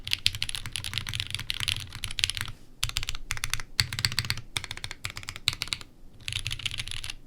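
Rapid keystrokes on a top-mount mechanical keyboard with a curved case, clattering in dense bursts with short pauses between runs, close and clear with no talking.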